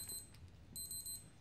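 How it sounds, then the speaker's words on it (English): A wristwatch alarm beeps in a quiet room, two bursts of rapid high electronic beeping separated by a short pause, faint and thin. "Really, a watch alarm?"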